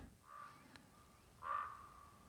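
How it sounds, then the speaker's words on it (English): A raven calls twice outdoors, two harsh croaking caws about a second apart, the second louder and nearer, over a quiet background. "And that is the sound of the crows there, or ravens. Turns out it's a raven."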